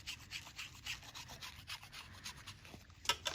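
A block of wax scraped across a grater in quick repeated rasping strokes, close and fairly quiet, alone with no voices.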